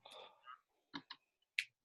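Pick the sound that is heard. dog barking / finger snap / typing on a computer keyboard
typing on a computer keyboard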